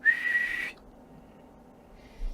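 A sharp, high whistle is blown on a whistle candy, a Korean novelty sweet. It comes as one steady note lasting about half a second, followed by quiet and then a faint rustle.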